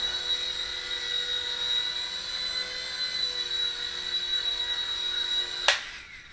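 Silverlit Spy Cam II, a 2.4 GHz three-channel RC helicopter, whines steadily with a high motor tone and rotor buzz for several seconds, then cuts off abruptly near the end, leaving quiet.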